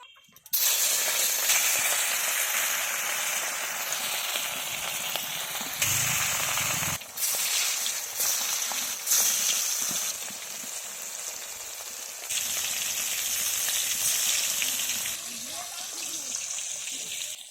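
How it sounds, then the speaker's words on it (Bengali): Pieces of katla fish fry in hot mustard oil in a kadai over a lit stove, giving a loud, continuous hissing sizzle that briefly dips and swells but runs throughout. "মাছগুলো হালকা হালকা করে ভেজে নেবো, বেশি ভাজবো না।"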